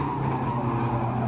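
Stock cars roar at Franklin County Speedway, a loud, continuous engine drone with tire noise, close and sustained with no talking.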